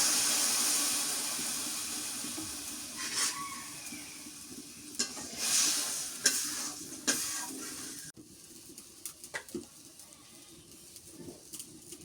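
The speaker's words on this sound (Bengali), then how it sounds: "মাছ কষানো হয়ে গেছে, একটু পানি দিয়ে দিই," A fish curry with river fish and shrimp simmers in a pot after water is added, with steady bubbling sizzle and intermittent scraping stirs of a spoon, louder in the first part and quieter after a cut.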